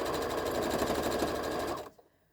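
A sewing machine stitches a mini tote bag in a fast, steady run of rapid mechanical clatter, close and alone, before stopping abruptly near the end.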